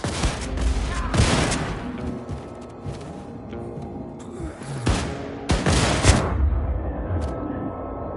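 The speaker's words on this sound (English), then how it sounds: "Blazkowicz, hop on the nuclear cannon and fire it to maximum distance." In Wolfenstein: The New Colossus, a nuclear cannon fires in heavy, loud blasts, with two big booming bursts and smaller cracks and rumbling between them.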